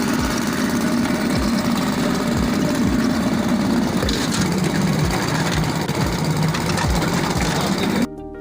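A dough milling machine for bread cake dough runs steadily throughout, a close, loud motor drone with a rhythmic thumping from the rollers, ending abruptly just before the close.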